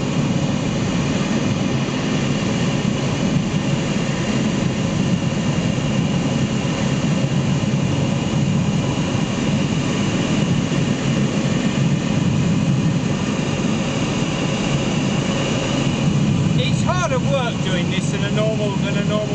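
Tow plane engine pulling a glider on an aerotow at a gliding club: a steady, loud, continuous drone held throughout, with a brief higher whine near the end.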